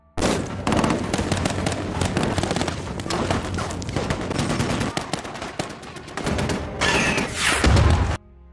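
Heavy gunfire in a firefight with the Taliban in Afghanistan, dense overlapping automatic bursts and sharp shots almost continuously for eight seconds, loud and close, with a deep thump near the end.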